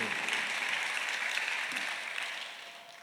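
A church congregation at a Sunday worship service claps together in a steady wash of applause that holds evenly and then slowly fades toward the end.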